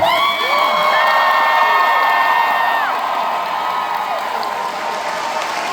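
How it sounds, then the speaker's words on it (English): Crowd at a live Dungeons & Dragons show at a fan convention breaks into loud applause mixed with cheers and whoops, sustained and energetic before gradually easing off. "Once again, a round of applause."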